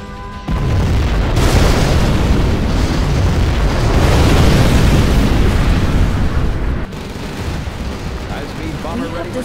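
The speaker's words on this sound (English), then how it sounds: "Launched our nuclear missile." A nuclear missile explosion in Command & Conquer: Generals Zero Hour, a deep, sustained booming roar for several seconds, loud and rumbling, then dropping to a lower rumble with faint voices underneath.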